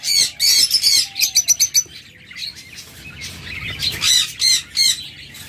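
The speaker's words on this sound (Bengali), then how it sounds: "আমাদের কাছে হিউজ পরিমাণ লাভবার্ড রয়েছে" Caged lovebirds kept for sale squawk and chirp in loud, close bursts, with quieter gaps between the flurries of calls, and no one speaking.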